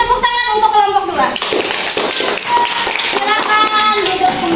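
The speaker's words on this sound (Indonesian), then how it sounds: "Beri tepuk tangan untuk kelompok 2." Primary school class clapping for a presenting group, with brisk rhythmic hand claps mixed with children's voices after a teacher speaks.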